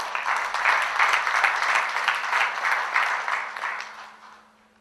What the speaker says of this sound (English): Please thank her with loud applause.